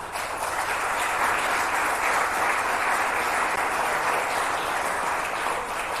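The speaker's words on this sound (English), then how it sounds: "Give them a warm round of applause" Lecture hall audience applauding after a talk on government criminality, a dense, steady wash of many hands clapping that holds evenly throughout, no voices above it.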